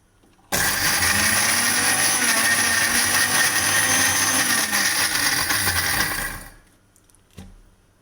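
A mixer grinder running dry on Oreo biscuits: a sudden loud motor whir that holds steady for about six seconds, then winds down, followed by a brief rattle.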